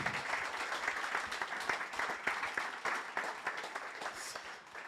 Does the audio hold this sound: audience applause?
yes